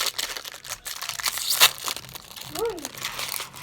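Crinkly plastic wrapper of a Kellogg's toasted rice cereal candy bar is torn open close up, a run of crackling rustles with one sharper rip, while someone speaks over it.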